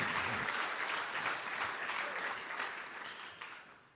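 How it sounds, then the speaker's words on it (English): An audience at a Big Sky Conference hall of fame ceremony breaks into sustained applause, a dense clapping wash that gradually fades over about four seconds. "Let's just clap for that."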